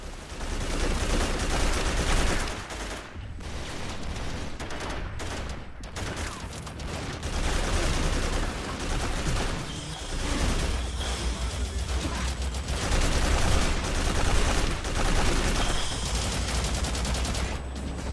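Dense video game gunfire rattles almost without pause, with layered bursts and rapid shots over a loud, constant battlefield roar. No one speaks.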